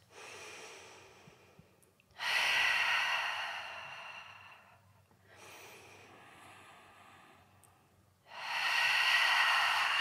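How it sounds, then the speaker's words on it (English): Three deep, expansive breaths during a side-lying to kneeling yoga flow, each a long airy rush lasting a couple of seconds with quiet gaps between, close to the mic and with no talking. "Three deep, expansive breaths."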